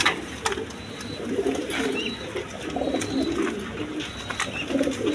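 Several pairs of Denis pigeons with their chicks coo in a low, steady murmur that runs throughout, with a few brief chirps and short clicks rising above it at close range.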